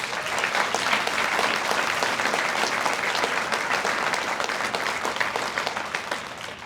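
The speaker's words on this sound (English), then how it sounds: "for the staff, for the support, for the families, a round of applause." A banquet audience applauds for the staff and families, a dense, continuous wash of clapping from a large crowd that holds steady and begins to taper near the end.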